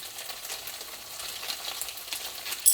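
Chicken hekka poured from a sukiyaki pot into a hot pan gives a soft, steady sizzle with faint crackle, fairly quiet and close, ending in a brief clunk.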